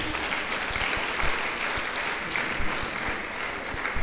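A church congregation applauds in a dense, continuous wash of clapping that stays fairly loud and even, with slightly stronger bursts now and then.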